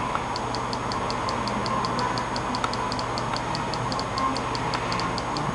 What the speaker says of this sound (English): is it gonna stop doing that clicky sound when I